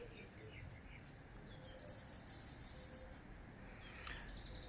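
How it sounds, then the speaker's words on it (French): Small birds chirp at 7 a.m. over a bay in Le Marin, Martinique: quick, high tweets and short trills come in scattered bursts from several birds at moderate distance above a low ambient rumble. "On entend les petits oiseaux"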